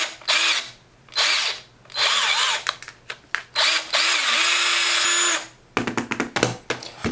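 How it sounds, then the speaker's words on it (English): Power drill with a 3/8 inch bit boring straight down into a hole in a custom Black Series Imperial Juggernaut figure, heard as several close, loud whirring bursts separated by short pauses, with a shorter stuttering run at the end. "for this guy I am going to be using a 3/8 inch drill bit, and we're just going to drill straight down into this hole right here"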